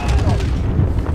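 An RPG-7 rocket launcher fires and explodes in a multiplayer shooter game, a loud, dense boom with rumbling low end filling a short burst and no talk over it.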